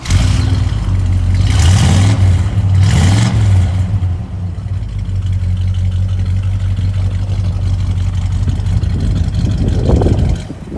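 A 1984 Chevrolet C10 pickup's engine cranks, catches with a couple of revving bursts, then settles into a loud, steady low idle that runs on for several seconds.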